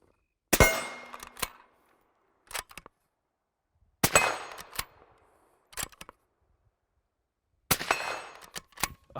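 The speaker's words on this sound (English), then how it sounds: "I think we should take this down into our industrial yard where we've got the steel set up and do some shooting" Three suppressed rifle shots fired through a Silencer Central Banish 30, each a sharp close crack with a short decay, evenly spaced a few seconds apart, with faint distant metallic pings from steel targets after each.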